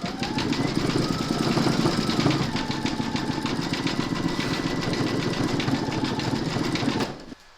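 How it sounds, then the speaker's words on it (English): An embroidery machine sews a zigzag and then a satin stitch around the border of a clover coaster. It makes a fast, steady mechanical chatter, close and even, and stops abruptly at the end. "You're now going to stitch round number 8, and that's going to zigzag and then do the satin stitching around the border of the clover."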